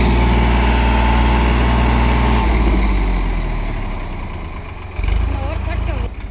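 A tractor engine labors on a muddy slope, rumbling steadily and then dropping back to an idle, with voices talking over it.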